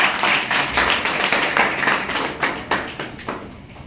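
An audience gives a lively round of applause at a business meeting, steady clapping from a small crowd that rises and then thins out over a few seconds.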